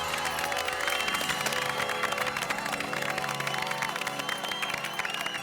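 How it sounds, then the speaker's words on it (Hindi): Applause and cheering from a crowd at a Children's Day evening show rise over music playing with sustained tones, the clapping steady and somewhat distant throughout. "हम एक बार और जोरदार तालियां बजाएं"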